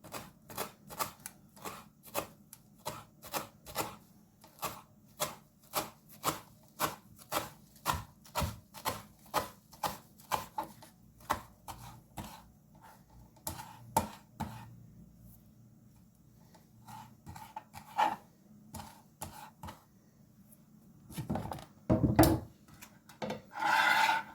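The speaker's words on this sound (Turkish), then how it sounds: "Şimdi de maydanozumuzu kıyalım ince ince." A knife chops parsley finely on a wooden board in quick, regular close taps, then in slower, irregular strokes, with a few louder knocks near the end.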